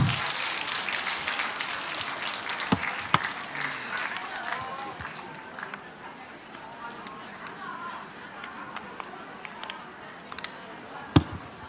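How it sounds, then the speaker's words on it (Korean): Applause from a lecture audience greeting a professor as he comes up, a broad wash of clapping at moderate distance with a few sharper claps, fading into a quieter crowd murmur toward the end. "박수로 환영하겠습니다."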